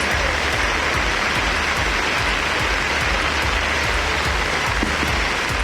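Heavy rain pours down in a steady, loud, dense roar with crackling drops hitting surfaces, constant throughout with no pauses or voices.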